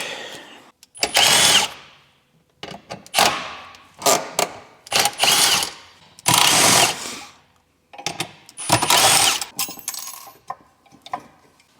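Power drill removing the shifter from a WK, worked on during an abandoned Evo 8 restoration, in several short close whirring bursts separated by pauses.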